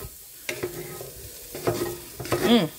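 Corned beef hash frying in a pan and being stirred, with a spatula scraping and pushing through it in a few distinct strokes over a steady sizzle, close and fairly loud, no talking.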